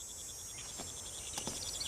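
Crickets chirp in a steady, rapid pulsing rhythm against a quiet nighttime background, faint and continuous, with a couple of soft brief noises mixed in and no voices.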